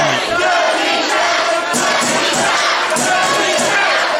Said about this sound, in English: there's another dirty Chav chant going around there, and the Russian crowd are really getting up for that